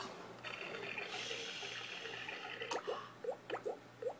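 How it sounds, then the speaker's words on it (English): Water runs from a tap in a soft, steady stream, then a few brief splashes and drips land near the end, fairly quiet. "Oh, you hear the water?"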